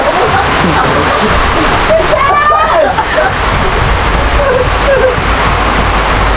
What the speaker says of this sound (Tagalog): Grabe yung ulan, oh.